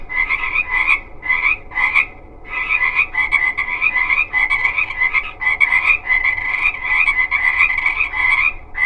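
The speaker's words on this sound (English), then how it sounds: "but I still have frogs" Frogs croak loudly and up close in repeated bursty trills, one call after another with short gaps, a dense rhythmic chorus and no talking.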